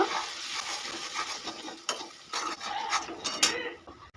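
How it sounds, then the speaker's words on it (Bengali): Ground chilli, cumin and coriander powders and salt are mixed into raw duck meat in a bowl, heard as soft continuous scraping and squelching with occasional light clinks of a spoon against the bowl, quiet and close. "সব মশলাগুলো খুব ভালো করে মিশিয়ে নেব"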